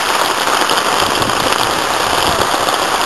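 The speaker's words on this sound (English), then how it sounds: "My god, the rain just worsens here!" Heavy rain pours steadily at an outdoor wrestling match, a dense, loud, continuous hiss of drops on surfaces with no clear voices above it.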